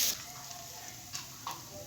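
Sliced onions frying in ghee in a pan give a steady, soft sizzle close by, with a couple of brief stirring clinks near the end and no voices.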